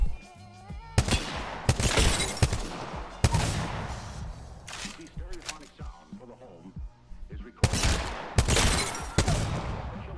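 A CAR SMG fires on an Apex Legends Season 11 firing range in rapid automatic bursts. The sharp, dense volleys are separated by short pauses, and someone talks between them.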